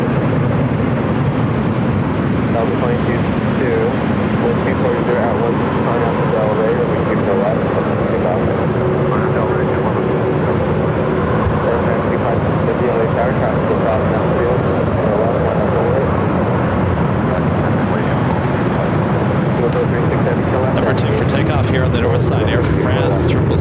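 An Air France Boeing 777 heading back to Paris, seen at LAX: a loud, continuous jet engine roar that holds steady throughout, with talk carrying over the engine noise.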